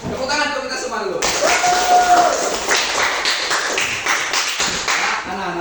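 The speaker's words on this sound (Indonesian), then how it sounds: "Tepuk tangan untuk kita semua dulu." A class of children clapping together in a classroom, a dense burst of rhythmic applause close by, mixed with voices chattering over it.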